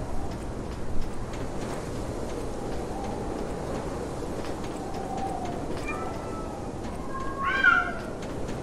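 Cats meow in the dark world of the video game Lies of P, a couple of short, fairly clear mews rising near the end over a low, muffled ambient rumble, with faint speech in the background.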